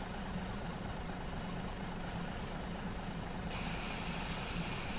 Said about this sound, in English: There's a pickup truck that I've got that sounds like this too.